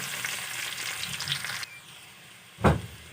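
Onions go into a pan of hot oil with garlic already fried golden brown, for crab in coconut milk with string beans and squash. A steady oily sizzle gives way to a quieter stretch, then a sudden loud burst of frying.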